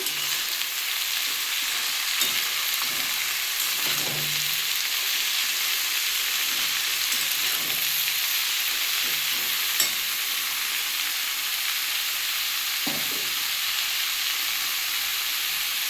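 Radish greens fry with potatoes in a pan, a steady sizzling hiss broken by several spatula stirs and scrapes, close and fairly loud, with no speech.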